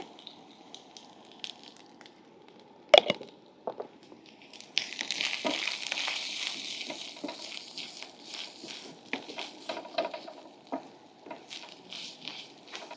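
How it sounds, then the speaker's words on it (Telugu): Chili powder fries in a pan for an Andhra-style prawn fry cooked in a village, with a few scattered taps and clicks before a steady, soft crackling sizzle sets in and continues at low level. "ఇప్పుడు ఒక 2 చెంచాలు కారం వేసుకొని కారం కూడా పచ్చివాసన పోయేదాకా 1 నిమిషం పాటు వేపుకోవాలి."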